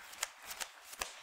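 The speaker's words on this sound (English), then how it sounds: "why I shouldn't riffle shuffle" Playing cards being riffle shuffled at a Friday Night Magic Standard tournament table, giving a few soft, quick rustling bursts at close range with no talk.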